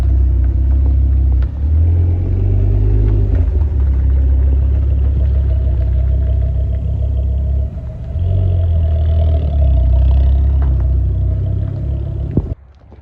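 A Ford Focus ST225 with a Forge actuator and uprated torque mount runs under boost, a deep throaty rumble that swells and eases in a few rev surges, loud and close, cutting off sharply at the end.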